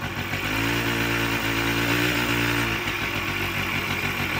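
Suzuki LT80 ATV engine after a top end rebuild, running with a steady buzzing idle and a brief rev, close and loud throughout.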